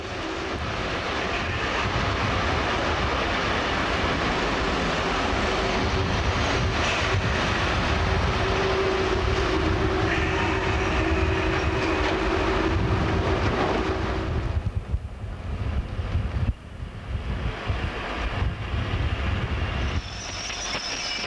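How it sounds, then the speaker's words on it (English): A Shenfield electric multiple unit pulls into Romford station on a down stopping service, a steady loud rumble and hum of traction and wheels that eases and breaks up near the end as it slows, with no talk. "Still at Romford, a Shenfield set arrives on a down stopping service."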